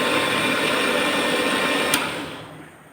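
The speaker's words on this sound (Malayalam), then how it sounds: "ഇനി ഇത് നമുക്കൊന്ന് മിക്സിയിൽ അരച്ചിട്ട് വരാം." A mixer grinder blends jackfruit with milk, a loud steady whirring roar close by that winds down toward the end.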